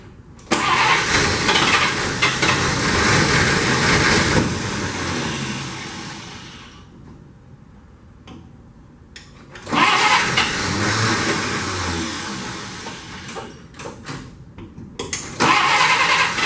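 A barn-stored 1948 Pontiac Torpedo sedan, unused for 20 years, cranks with a loud, steady grinding whir, pauses, then cranks hard again and sputters toward catching, heard up close and almost alone.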